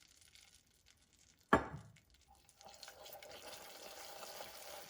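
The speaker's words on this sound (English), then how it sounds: "Now we're gonna add a little bit of cream." Cream poured into hot caramel sauce bursts into a sudden loud hiss and bubble that quickly fades, followed by a steady low simmering crackle.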